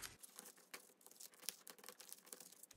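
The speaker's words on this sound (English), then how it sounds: "Crumple it a little more while I'm gluing it." Paper is crumpled and crinkled by hand during gluing in a papercraft session, giving faint, close, irregular rustles and crackles throughout with no voices.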